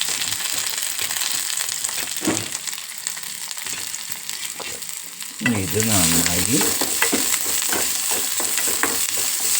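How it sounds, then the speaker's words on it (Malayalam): Shallots and curry leaves fry in hot oil over a low flame, a steady close sizzle with stirring scrapes that swell louder midway; a voice speaks briefly over it. "ചെറിയ തീയിലിട്ടിട്ട് നമ്മളിത് മൊരിയിച്ചെടുക്കണം."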